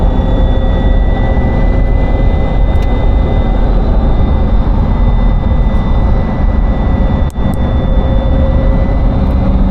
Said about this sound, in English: Supercharger sounds cool as hell.